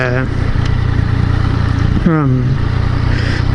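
A Yamaha FZ-09 three-cylinder motorcycle engine hums steadily at idle, then revs briefly around the middle before settling back, with someone talking over it throughout.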